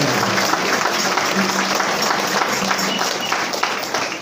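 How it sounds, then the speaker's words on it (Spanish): Audience at a San Gabriel Chilac posada gives the godparents a strong round of applause, a dense steady clapping wash that fills the whole stretch with faint crowd murmur underneath. "A los padrinos también les damos un fuerte aplauso."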